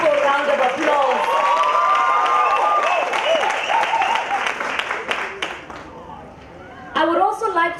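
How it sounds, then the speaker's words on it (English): Young audience at a Wits university campaign launch event applauds and cheers loudly with whoops and shouts, a dense sustained crowd sound that fades near the end before a burst of voices returns. "Give her a young people round of applause."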